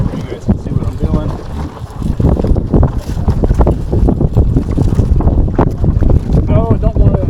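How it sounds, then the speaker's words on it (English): Strong wind gusts buffet a sailboat at sea in high wind, a loud roaring rush with heavy microphone buffeting and churning, sloshing water, continuous and close throughout. "Oh, we got a good gust coming."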